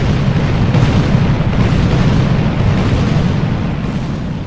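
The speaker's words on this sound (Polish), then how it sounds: "Staś kazał 101 salw armatnich na jej cześć wystrzelić" Cannons fire a 101-gun salute on the Dnieper at Kaniów, heard as a continuous loud, low rumbling roar of booms that blurs together and slowly fades, with no speech.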